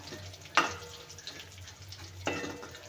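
Curry leaves in hot oil for a dal tadka give a low, steady sizzle, broken twice by brief louder bursts of crackling spatter.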